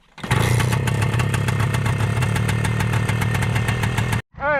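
A 1976 Kawasaki KT250 motorcycle engine catches after a kick-start and runs at a loud, close, steady idle with a rapid buzzing beat, then cuts off abruptly near the end.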